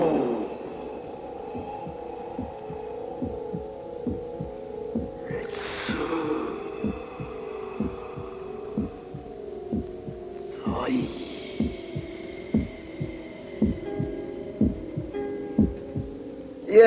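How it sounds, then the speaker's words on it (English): An electronic heartbeat sensor in a security setting gives off steady, evenly spaced thumping pulses over a constant low hum, with a couple of brief tonal sweeps between beats. "Heartbeat sensor."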